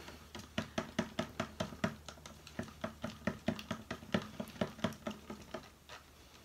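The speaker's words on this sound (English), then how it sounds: "So I'm going to give this a quick stir." Mixed paint gets a quick stir, a close, quiet series of rapid rhythmic taps and knocks against the container, about three per second, steady and alone.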